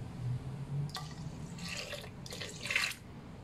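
Water trickles and splashes into a container for a wholemeal bread dough autolyse, coming in two short bursts with a soft drip and hiss, fairly close and quiet, with no talk.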